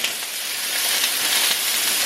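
Food stirred in a hot pan gives a bright, steady hiss of sizzling, close and even, with no voices.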